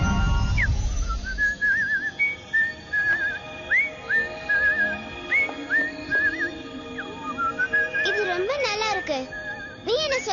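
A short melodic tune whistled in a cartoon, with bright pitch-bending notes and trills repeating over background music, growing busier with rising slides toward the end.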